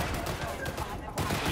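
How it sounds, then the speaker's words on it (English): Police gunfire in the Cyberpunk 2077 video game, dense overlapping shots in rapid volleys mixed with game noise and a voice, briefly dropping out before resuming loudly. "It's the cops that are the ones shooting!"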